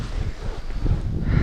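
Strong wind rumbles and buffets the microphone on a small fishing boat in stormy weather, a low, gusty, constant roar with no speech.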